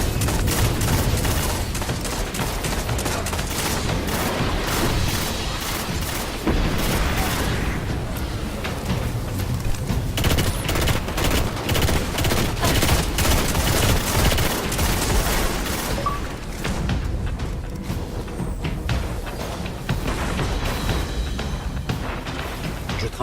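Heavy machine gun firing in the Destiny video game: dense, continuous rapid fire with booming impacts, loud and sustained for most of the stretch amid game noise, with occasional muffled talk.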